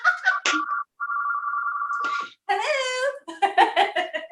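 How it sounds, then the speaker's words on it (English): A mobile phone rings with a steady electronic tone, then stops, and bursts of laughter and chatter follow close by. "Oh, I forgot my dad's phone was in here."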